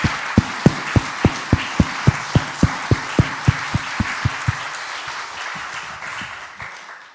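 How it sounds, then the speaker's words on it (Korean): Church congregation clapping in unison at a prayer meeting, about twenty evenly spaced sharp claps over a rising murmur of voices and reverberant sound, the beat fading as the crowd trails off. "살아계신 하나님께 영광의 박수를 한번 드리겠습니다"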